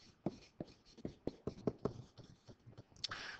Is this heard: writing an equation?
yes